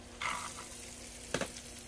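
Ginger garlic paste frying in a pan for a Kerala fish masala gives a soft, quiet sizzle. Two brief scraping stirs stand out, one near the start and one just past the middle.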